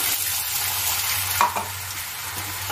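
Spice paste and a splash of water hit a hot pan for a vegetarian jackfruit curry, giving a continuous close hiss and sizzle with a brief louder burst midway and a low steady hum underneath.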